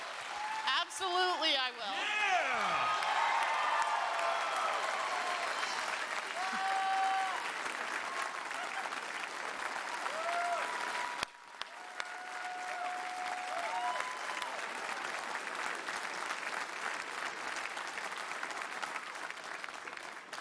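A theater crowd at a gaming convention's main stage show bursts into sustained applause and cheering after a marriage proposal, a loud dense wash of clapping that carries on under a few spoken words and occasional whoops.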